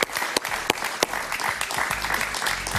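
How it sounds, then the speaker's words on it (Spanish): A studio audience on a Venezuelan talk show breaks into a loud, full round of applause for Paciano Padrón, dense clapping with a few sharp accents, running alone with no talk. "Un gran aplauso para Paciano Padrón."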